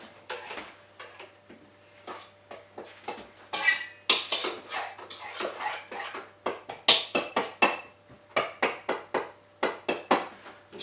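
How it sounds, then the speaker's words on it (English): Butter scraped from the bottom of a pan and off a mixer beater while making brisket pie, rapid metallic scraping and clinking strokes in a steady rhythm, close and clear with no speech. "So I'm just going to get the butter away from the bottom of the pan and away from the beater."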